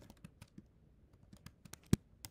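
Someone types code in Android Studio on a computer keyboard, giving irregular, sharp key clicks with one louder strike near the end, close and alone without talk.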